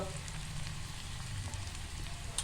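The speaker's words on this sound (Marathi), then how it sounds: "आता पण टाकतो थोडंसं जिरं थोडंसं हिंग" Cumin seeds and asafoetida sizzle in hot oil, giving a faint, soft crackle with occasional small pops from a pan close by.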